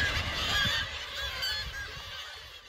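A dense seabird colony on the Runde bird cliff in Norway, with many birds calling at once in a continuous, loud, overlapping chorus of honking cries and no voices.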